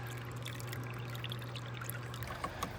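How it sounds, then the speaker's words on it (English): Water pours steadily through a gold sluice, a continuous trickling and splashing flow with faint droplet patter over a low motor hum, fairly quiet and without talk. "He's sluicing."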